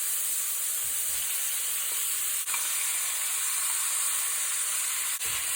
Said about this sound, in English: So I'm going to add my seasoned stir prawns here.